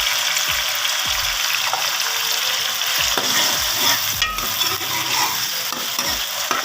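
Tomatoes and green chillies added to browned onions in a pan, frying over medium heat with a loud, continuous sizzle under repeated spoon scrapes and knocks as they are stirred, with no talk.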